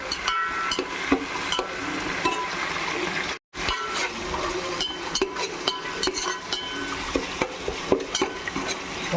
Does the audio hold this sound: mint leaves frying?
yes